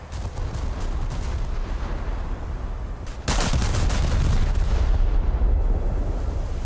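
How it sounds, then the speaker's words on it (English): A torpedo strikes in a naval warship game, a heavy booming blast that erupts abruptly partway through over a steady roar of engine and sea noise, then holds loud and rumbling to the end. "there goes the first torpedo impact. Behind me."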